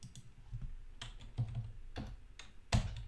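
Computer keyboard typing while a folder is renamed in software, a quick run of soft clicky keystrokes in a few bursts, close and clear, with no talking.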